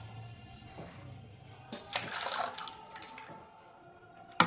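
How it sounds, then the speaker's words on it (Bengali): Hot milk is poured into melted butter for a cake, a soft, brief liquid pour heard close and fairly quiet, followed by a small clink at the end. "এর মধ্যে এবার গরম দুধটা ঢেলে দেবো।"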